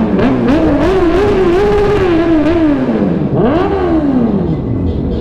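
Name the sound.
Corvette engine revving in a motorcade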